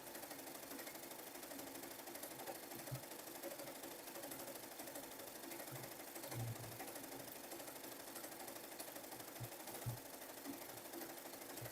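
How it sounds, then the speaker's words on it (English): An embroidery machine stitches out a sunflower design, giving a steady, fast mechanical whir with a rapid needle rhythm that runs without pause, fairly faint and uninterrupted by talk. "that machine stitches out pretty quickly. It don't slow down."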